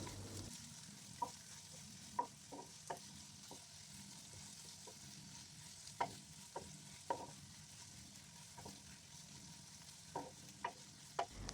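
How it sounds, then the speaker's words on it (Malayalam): Onion sautéing in a pan for a squid curry, a soft steady sizzle under regular sharp clinks and scrapes of a spoon stirring against the pan, heard alone without speech. "ഒരു സവാളയും ആഡ് ചെയ്ത് കൊടുത്ത് നന്നായിട്ടൊന്ന് വഴറ്റിയെടുക്കാം"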